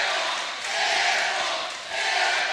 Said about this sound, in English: That will bring the cheering section to life at the pit.